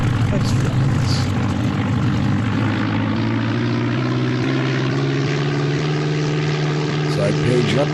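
A World War I Red Baron plane's propeller engine drones in a flight video game, a loud, steady, continuous hum with layered harmonic tones throughout, and speech is heard.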